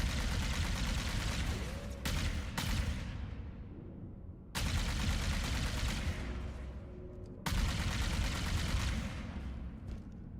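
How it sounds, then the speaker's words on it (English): A plasma rifle fires in a Halo video game, sustained dense bursts of rapid fire that repeatedly cut off and restart, loud and continuous with no talk. "I'm gonna shoot the plasma rifle."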